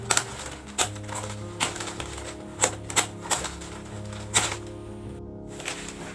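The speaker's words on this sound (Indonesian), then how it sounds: "Kemudian ini kita gunting." Scissors cut through woven market shopping-bag material, making a series of crisp, separate snipping clicks at an irregular pace, close up and heard alone.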